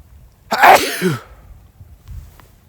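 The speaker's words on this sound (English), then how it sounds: "You heard it. I sneezed." A single sharp sneeze rings out close by, with a quick inhale before it and quiet afterward.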